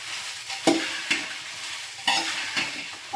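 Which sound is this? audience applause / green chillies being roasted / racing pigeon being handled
green chillies being roasted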